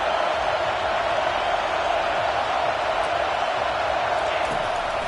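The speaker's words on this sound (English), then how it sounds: "Listen to this crowd just shaking the girders of this place trying to help their defense." A stadium crowd in the College Football 25 video game, Vanderbilt versus Tennessee, roars in a dense, unbroken wash of cheering that holds steady throughout with no clear voices on top.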